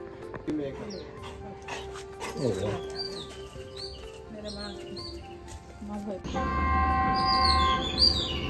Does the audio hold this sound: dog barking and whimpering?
yes